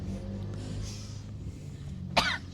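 A single sharp cough near the end of a short stretch, from a woman who has just been drinking water, over a low steady room hum with no talking.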